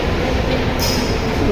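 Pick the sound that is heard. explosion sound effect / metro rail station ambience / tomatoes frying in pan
metro rail station ambience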